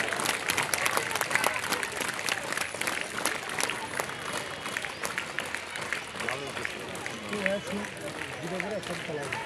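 An outdoor crowd at a school's annual sports competition claps in a dense, sustained burst of applause, with cheering voices and chatter mixed throughout.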